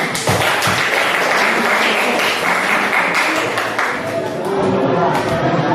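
Students in a classroom applaud a classmate together, a loud, dense spread of clapping mixed with chatter and voices that fills the whole stretch and thins slightly near the end.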